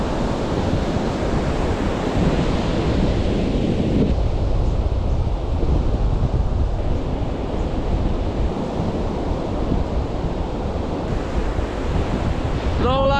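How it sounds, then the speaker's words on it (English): Rough, big ocean waves crash and roar steadily on an Australian beach on the way to Esperance, a loud continuous surf wash mixed with heavy wind buffeting the microphone, with no pauses throughout. "this ocean is pretty rough, pretty big waves"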